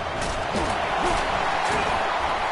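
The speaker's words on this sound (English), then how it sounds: "Listen to the crowd energy here in the early going." A college football stadium crowd roars loudly and without a break, with a dense wall of cheering noise and a commentator's voice over it.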